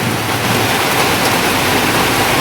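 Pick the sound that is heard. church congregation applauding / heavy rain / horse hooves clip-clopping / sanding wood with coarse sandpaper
heavy rain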